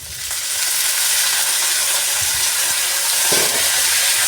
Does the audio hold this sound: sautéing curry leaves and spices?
yes